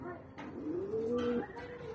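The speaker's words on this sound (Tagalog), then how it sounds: "Ito yung ibong ko" A racing pigeon coos at a loft, one soft rising and falling coo heard up close over quiet background noise.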